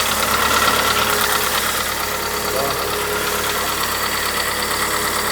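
A noisy VW Voyage G5 with an EA111 engine idles steadily up close, giving a continuous broadband running drone with a faint knocking texture throughout.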